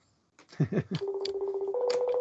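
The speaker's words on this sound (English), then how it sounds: "I accidentally activated my phone when I didn't mean to." An accidentally activated phone plays a burst of keypad tones, a few quick beeps followed by a steady held tone that steps up in pitch near the end.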